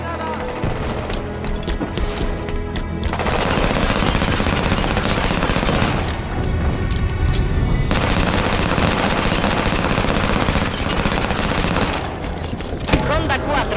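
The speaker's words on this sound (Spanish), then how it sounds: "¡Voy con la escopeta de dispersión!" Rapid fusillades of scattershot and other gunfire from the Halo 5 video game, with loud bursts and booms running almost continuously and brief lulls between them.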